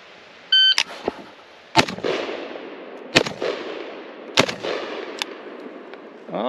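Three sharp gunshots crack from a Palmetto GF5 AK rifle fired at targets from low ready, evenly spaced and loud, each followed by a ringing echo, with a fainter clatter between shots.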